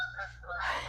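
Geese honk outdoors over a garden in the evening, a couple of loud, nasal calls overlapping in quick succession against a low background hum.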